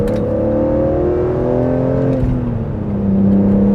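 A BMW E46 M3 with SMG transmission pulls hard, its engine note rising steadily in pitch before a brief dip at a shift and a deeper, louder tone as it climbs again, heard close and alone.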